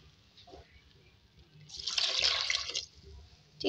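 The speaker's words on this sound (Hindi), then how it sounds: "पानी ऐड करेंगे" Water pours into a pot of lentils with whole cumin in a steady splashing stream lasting about a second, close by, after a few quiet clinks.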